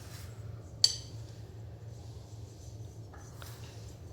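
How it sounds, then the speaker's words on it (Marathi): A stone mortar and pestle set down on an upturned plate while homemade paneer is being pressed: one sharp clink, then a quieter knock a few seconds later, in a hushed kitchen. "त्याच्यावर मी हा खल ठेवत आहे, खलबत्ता ठेवूया"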